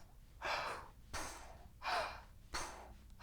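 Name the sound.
person imitating weird breathing from Prometheus trailer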